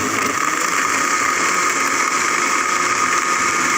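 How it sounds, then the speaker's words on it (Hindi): Blender whirring through a melon milkshake with added ice, a loud steady motor drone held close and continuous without pauses. "अब हम इसमें बर्फ़ शामिल करेंगे, फिर इसको थोड़ा सा ब्लेंड करेंगे।"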